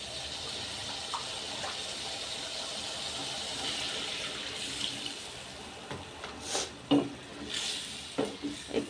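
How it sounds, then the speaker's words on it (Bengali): Water poured into a pot of cooked-down fish masala for a tomato fish curry, a steady soft running flow with a few louder splashes and clatters near the end, no talking. "এখন তার মধ্যে পানি দিয়ে দিব।"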